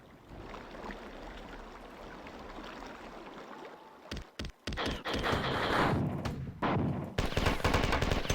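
Gunfire in the video game Marathon 2: dense, rapid bursts of shooting and clattering impacts over a rushing background, growing louder and busier after a few seconds, with no voices.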